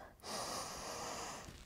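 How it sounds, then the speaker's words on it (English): A deep breath drawn in during a yoga session, a long airy inhale through the nose, close and soft, rising sharply after a brief pause and holding steady for over a second. "You take another big breath in."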